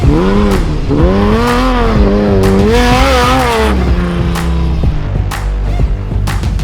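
An extreme four-wheel drive Patrol races hard on a dusty track at Bencubbin 2022, its engine loud and close, revving up and down in rising and falling sweeps, with sharp tyre noise breaking through.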